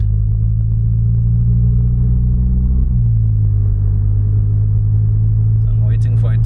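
A tuned Stage 1+ VW Polo GTI, 267 hp, cruising on the road: a steady low engine drone and road rumble inside the cabin, shifting slightly in pitch midway, with brief faint sounds near the end.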